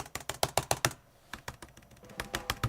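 Typing on a Surface Laptop 3 keyboard, a quick run of crisp key clicks, a brief pause, then a lighter, steadier patter of keystrokes, close and clear with no talking.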